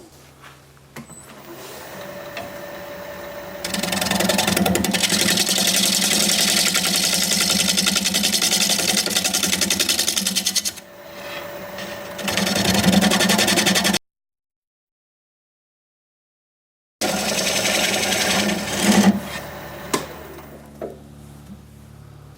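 A wood lathe flattens the bottom of a heavily spalted scrap-wood blank, its steady motor hum and cutting roar running loud and close for about ten seconds, pausing briefly, then resuming.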